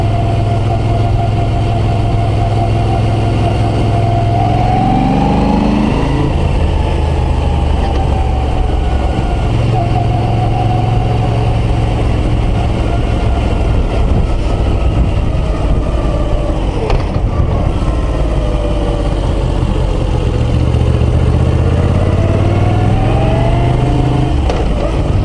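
Moto Guzzi V9 Roamer motorcycle engine on a country road ride, a loud, close, continuous rumble with smooth rises and falls in revs as the rider shifts and accelerates, and no talking.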